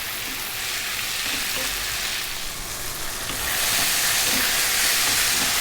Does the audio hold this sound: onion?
yes